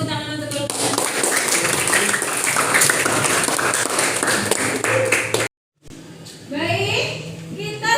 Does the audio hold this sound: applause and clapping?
yes